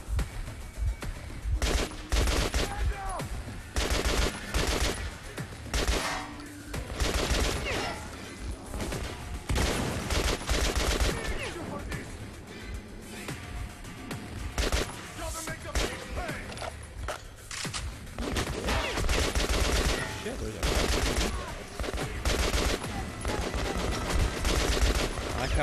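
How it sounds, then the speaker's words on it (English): Gunfire from a picked-up weapon in Metro: Last Light, repeated bursts of loud close shots and automatic fire with crashes and footsteps, a voice talking over parts of it. "And now it's time to use the gun we picked up."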